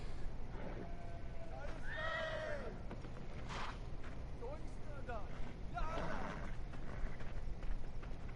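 A video game horse whinnies with a rising, wavering neigh over a busy background bed, followed by a few shorter snorting calls.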